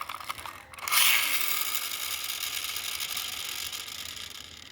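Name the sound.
toy car pullback mechanism being wound, Centy Toyota Innova diecast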